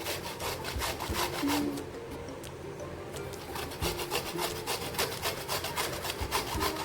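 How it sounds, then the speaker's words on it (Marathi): Peeled raw mango is rubbed over a grater for gulamba, a quick rhythmic rasping scrape repeated close up, with no talking. "चला आता कैरी आपण किसून घेऊ"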